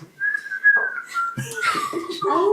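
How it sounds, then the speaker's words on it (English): A person whistles a wavering, sliding tune up close, with some muffled voices and movement joining partway through. "And you just hear whistling"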